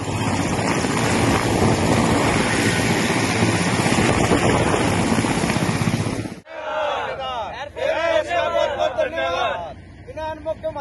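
Rescue helicopters, including Mi and Chinook types, airlifting people out of Kedarnath, a loud continuous rotor and engine roar that cuts off abruptly, followed by people talking.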